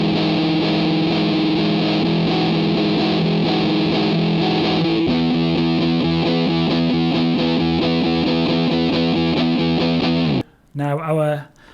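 Heavily distorted electric guitar strums massive shoegaze power chords, thick and sustained with a washy effects-laden tone, changing chord partway through before cutting off into a short bending note at the end.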